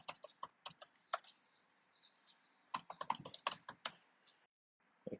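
A password typed on a computer keyboard: close, crisp key taps in quick irregular bursts, with a brief pause before a few final strokes and no talking.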